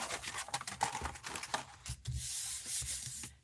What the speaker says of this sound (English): I'm just trimming off the edge of the cardstock